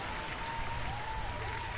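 A cartoon audience at a magic show breaks into dense, continuous clapping, a steady wash of applause that fills the whole short moment without any voices.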